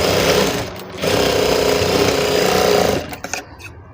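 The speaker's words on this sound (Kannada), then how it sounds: "ಈಗ ಒಂದು ಸ್ಟಿಚ್ ಹಾಕ್ಕೊಳ್ಳೋಣ" A sewing machine stitches through folded fabric in a close, loud, steady whirr that runs for about two seconds, then slows and stops with a few soft clicks.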